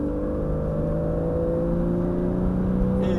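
A Porsche 911 Carrera S engine drones steadily from inside the car on a race circuit, holding a loud, even, sustained tone as it pulls through a corner, with no voices heard.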